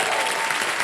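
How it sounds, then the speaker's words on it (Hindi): Studio audience applause on the Kaun Banega Crorepati quiz show, a thick, even roar of many people clapping together, loud and continuous through the brief moment. "तालियां बज जाएं इनके लिए"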